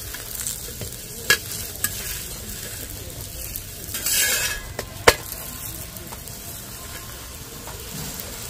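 A potato-stuffed paratha fries in a pan with a low, even sizzle, broken by a few sharp utensil taps and a brief louder burst of frying midway; no talking.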